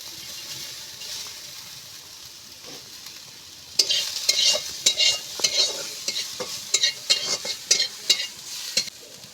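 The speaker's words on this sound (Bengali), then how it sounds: "এই কড়াইতে আমি পেঁয়াজ দিয়ে দেবো।" Onions hit hot oil in a kadai after mushrooms have been fried, bursting into a loud crackling sizzle after a quiet start, with frequent spatula scrapes and clatters as they are stirred up close.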